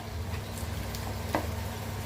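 Tuna simmering in coconut milk and fat is stirred in a pot, a soft steady sizzle with a few faint scrapes and clinks of the spoon, with no voice.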